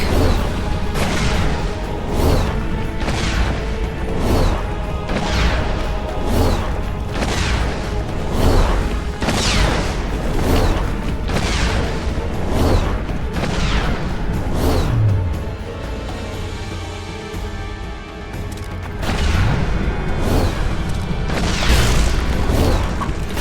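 Bomb blasts and combat impacts in The Witcher 2: Assassins of Kings, a series of loud, booming hits recurring every second or two over a continuous battle din.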